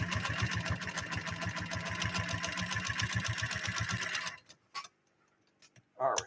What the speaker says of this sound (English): So hopefully our custom-made needle that we made by grinding down a regular Schmetz needle continues to get the job done